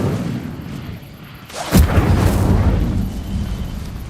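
Incendio, a fire spell in Hogwarts Legacy, bursts with a sudden loud whoosh and boom that tails off into a crackling, roaring flame.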